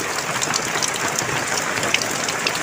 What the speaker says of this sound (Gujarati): બહુ જ વરસાદ આવ્યો છે આજ તો